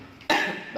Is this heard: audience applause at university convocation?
no